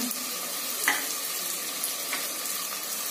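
Tomato with turmeric, red chilli powder and garam masala sizzling as it is sautéed for street-food style matka biryani, a steady close frying hiss with a few soft stirring scrapes.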